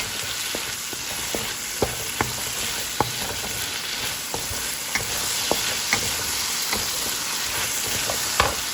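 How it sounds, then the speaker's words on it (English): Meat and vegetables stir-fried in a wok for Singapore mei fun give a steady, close sizzle, punctuated by sharp, irregular clanks and scrapes from stirring throughout. "I'm gonna stir fry that until it's cooked."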